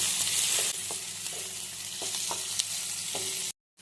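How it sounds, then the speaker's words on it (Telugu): Onions and green chillies sizzle steadily in hot oil with mustard seeds and cumin in a pan, a close, even frying hiss with a few soft stirring knocks, ending abruptly in silence. "ఉల్లిపాయలు, పచ్చిమిర్చి ఎర్రగా వేగినాయండి."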